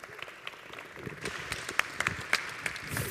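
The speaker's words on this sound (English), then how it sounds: "one big applause for all 4 architects" An audience claps for four architects at the close of a workshop talk, moderately loud applause with sharp individual claps standing out near the end.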